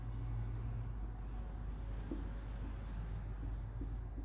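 Marker or chalk strokes on a board during a biology lesson on respiration, a steady scratching with short bursts of writing over a constant low hum, fairly close and moderately loud.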